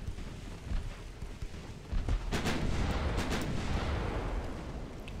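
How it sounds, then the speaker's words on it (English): Heavy 9-inch naval guns fire in the warship battle game Ultimate Admiral: Dreadnoughts, with deep booming salvos over a rumbling battle backdrop that swells after the first couple of seconds and stays loud. "Twenty percent chance to hit with my 9-inch guns."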